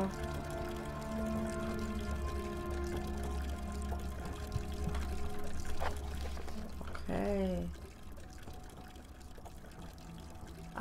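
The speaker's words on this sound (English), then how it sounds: "I hear some water running." Water pours steadily in the Amnesia horror game, a continuous liquid rush that stops abruptly near the end, with a low droning ambience and a brief rising tone underneath.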